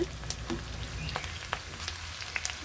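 Pieces of taro are frying in hot oil, with a soft, steady sizzle broken by scattered small pops and crackles.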